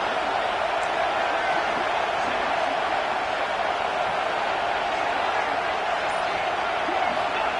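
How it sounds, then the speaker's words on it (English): A loud, dense roar from a college football stadium crowd at a Tennessee at Clemson game, steady and unbroken throughout with no pauses, filling the whole space. "This crowd, full throat, splitting the eardrums and letting them know it's going to be a long day."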